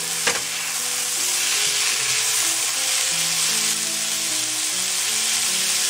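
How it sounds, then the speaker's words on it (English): Soaked basmati rice hits a pan of hot vegetables with a brief clatter, then a steady, loud sizzle and frying hiss carries on close by while it is stirred. "now I will go ahead and add the rice in it."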